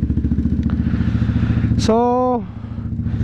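A Vespa scooter with a Remus exhaust and no silencer idles up close with a loud, rhythmic, throbbing putter. A brief tonal squeal cuts across it midway, and someone speaks a single word.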